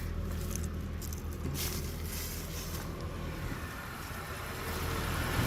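A 1994 Nissan minitruck engine with about 186,000 miles idles steadily and smoothly close by, a continuous low, even rumble with no talk.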